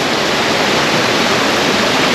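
A mountain stream rushes over rocks at a trail crossing in the White Mountains' Huntington Ravine, a loud, close, continuous broadband hiss with no voices.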